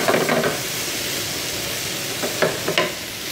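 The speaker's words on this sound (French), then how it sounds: "on va mettre du beurre dans une poêle. Qu'on va laisser fondre" Butter melting in a frying pan over fairly low heat gives off a steady, soft sizzle and hiss, with a few slightly louder crackles near the end and no talking.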